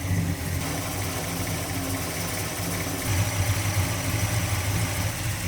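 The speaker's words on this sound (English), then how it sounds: "I'm gonna turn this idle speed screw, just see what it takes to get it to idle up" A carbureted engine idles after an idle speed screw adjustment, a steady low rumble with a slight rise in the second half, running alone and close with no voices.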